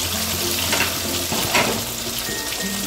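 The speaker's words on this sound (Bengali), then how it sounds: "এইভাবে কিন্তু আমি মাছগুলোকে ভেজে নেব।" Pabda fish frying in a pan on a gas stove, a steady broadband sizzle running throughout at close range, with a few brief brighter pops and crackles and no voices.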